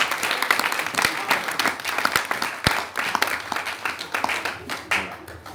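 A church congregation bursts into sustained applause to acclaim the Lord, a dense wash of clapping with a few sharp louder claps, steady throughout and close around the listener.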